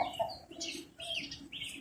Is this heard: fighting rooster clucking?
yes